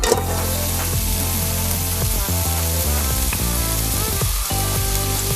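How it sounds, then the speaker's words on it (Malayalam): Thinly sliced onions, a full kilo, sizzle and fry steadily in hot coconut oil for a Kannur-style fried chicken dum biryani, with occasional stirring clatter over a loud, continuous crackle and no talking. "ഇനി ഇതിലേക്ക് ഒരു കിലോ സവാള കനം കുറഞ്ഞ നീളത്തിൽ അരിഞ്ഞതാണ് ഇത് ചേർത്ത് കൊടുക്കാം"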